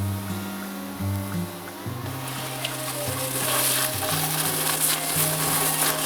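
Eggs fry in olive oil for an Italian frittata, a soft steady sizzle that builds in brightness partway through, heard alongside low tonal hum from the stovetop with no talking.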